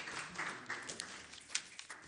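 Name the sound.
audience applause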